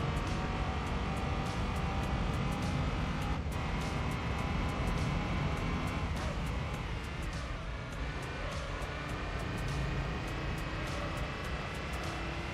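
A car with a small turbo engine launches and accelerates in Gran Turismo 3, a steady droning engine note with rising revs, fairly faint and continuous with no talk.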